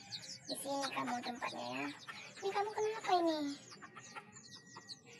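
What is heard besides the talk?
chickens clucking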